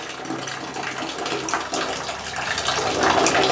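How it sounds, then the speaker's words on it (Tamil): Water runs steadily from a tap with a broad hiss that grows slightly louder toward the end, with no clear stop. "இப்போ நான் வந்து டேப் க்ளோஸ் பண்ணுறேன்"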